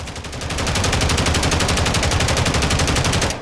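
Sustained automatic rifle fire in Call of Duty Modern Warfare III, a rapid, even stream of loud shots lasting about three seconds before cutting off abruptly, with no talk over it.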